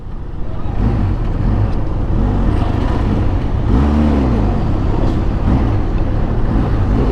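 Busy road traffic on the way to Anilao Port in Mabini, Batangas, with many vehicles passing in a loud continuous roar and one engine rising and falling in pitch near the middle, no talking.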